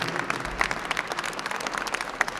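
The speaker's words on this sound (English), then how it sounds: "So if we could applaud ourselves for all the moms and dads that stand behind me." An audience at a press conference on House Bill 1499 applauds the parents standing behind the speaker: a dense, steady burst of many hands clapping at close range, with no voices over it.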